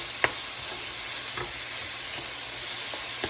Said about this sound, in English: Saute them for about 3 minutes until they get a little bit soft and they start giving a nice aroma.